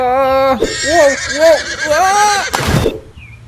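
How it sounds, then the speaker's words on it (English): Horse whinny in a comedy parody dub, voiced as a series of wavering, rising and falling neighs with a harsh burst near the end, loud and close; the sound seems voiced or synthesized rather than a real animal. "What the hell happened to your horse, Podrick?"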